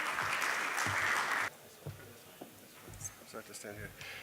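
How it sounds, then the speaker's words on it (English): Applause from a conference audience for about a second and a half, loud and dense, then it cuts off and quiet room noise and movement follow. "Round of applause, ladies and gentlemen"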